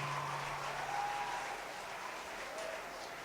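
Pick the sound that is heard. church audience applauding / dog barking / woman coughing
church audience applauding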